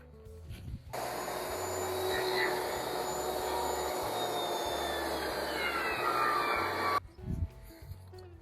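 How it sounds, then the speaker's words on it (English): A table saw rips a 2x4 along the fence in one steady, loud cut lasting several seconds, a continuous whining blade roar that starts abruptly and stops sharply, followed by a few brief knocks. "set it on the table saw, slide up the fence, and we're now ready to start ripping"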